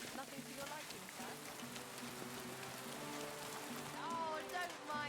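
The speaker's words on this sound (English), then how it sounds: "Oh, don't mind the rain." Rain in the medieval game Kingdom Come Deliverance 2, a steady patter falling on surfaces around a market stall, continuous and moderately loud beneath faint tonal game sounds, no one speaking over it.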